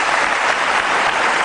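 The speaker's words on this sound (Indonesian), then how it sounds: "kita kasih tepuk tangan dulu dong" A television studio audience breaks into dense, loud applause, a continuous wash of clapping heard alone.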